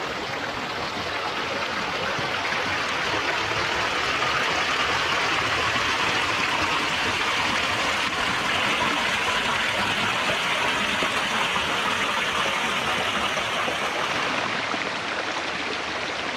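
Natural spring stream flowing steadily outdoors, a continuous broadband rush of running water, close and even in level throughout with no voices.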